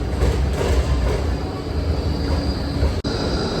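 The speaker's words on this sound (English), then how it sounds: "The number of trams that just come and go is crazy." Melbourne trams roll past in Chinatown, a loud, continuous rumble of wheels on rail with a faint squeal and a sharp click near the end.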